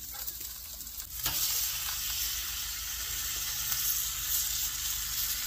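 A steak sears in a hot pan with a steady, bright sizzling hiss held close. A brief knock or shift comes early before the frying settles into a constant loud crackle, and nobody talks.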